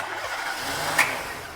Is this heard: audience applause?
no